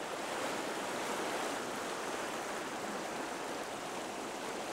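The Ain river in the French countryside flowing steadily, a continuous broadband rush of water, soft and even throughout with no voices.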